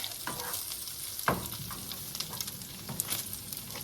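About 1.5 pounds of hamburger and one onion frying in a pan, a constant close sizzle broken by a few scraping stirs of a utensil.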